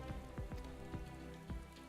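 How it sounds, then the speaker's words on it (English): Steady in-game rain in Final Fantasy XIV Stormblood hisses softly, with drops pattering under a low ambient music bed and occasional soft thuds, faint and continuous with no voices. "Rain is very appropriate for this."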